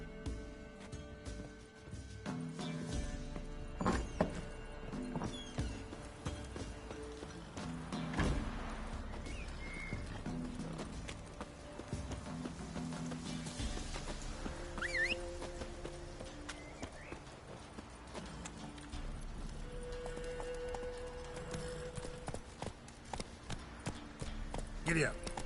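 Horse hooves clip-clop in Witcher 3, a faint run of uneven hoof beats under game sound and speech.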